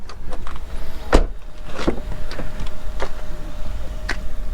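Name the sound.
manual window crank being turned on a surplus vehicle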